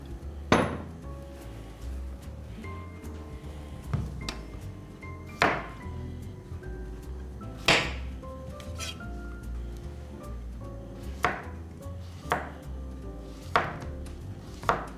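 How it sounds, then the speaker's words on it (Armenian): Zucchini is sliced with a knife on a cutting board: about a dozen crisp, irregularly spaced chops, close by and moderately loud, over a low background hum. "Մինչ բուսայողը տաքանա, կշերտատեմ դդմիկները։"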